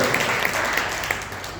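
A church congregation at a Sunday worship service claps together in a short, dense burst of applause that holds fairly steady before easing slightly.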